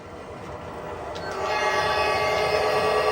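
A Lionel model garden train rolling into an indoor rail yard building, its motor whine and rumble swelling louder and closer over a few seconds, with no voices.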